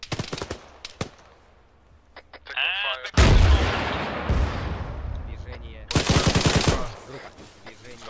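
Arma 3 gunfire in a modded Chernobyl special operations mission: sharp isolated shots at first, then two loud sustained bursts of automatic fire, close and booming, with voices and radio chatter between them.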